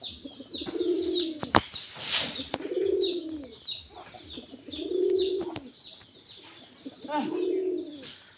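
Pet pigeons coo in four repeated low, rolling phrases at a steady rhythm, close and fairly loud, with a brief flutter of wings and light chirps between the calls.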